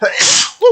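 A person sneezes once, close and loud, during a modded Stardew Valley gaming session, followed by a short voiced exclamation.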